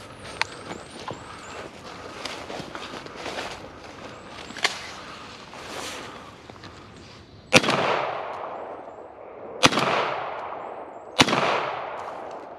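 A .410 shotgun fires outdoors, with three loud, sharp blasts spaced a couple of seconds apart, each trailing off in a long echo. Softer clunks and handling noises come before them.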